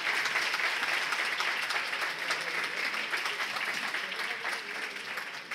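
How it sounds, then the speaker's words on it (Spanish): Audience applause for a historian and Egyptologist at a talk, a steady, even crowd clapping that holds for several seconds and eases slightly toward the end, fairly distant and soft. "Un aplauso para Tito Vivas."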